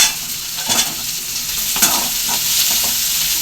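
Cashews sauté in hot oil for chana masala: a loud, steady sizzle with soft stirring scrapes throughout and no voices.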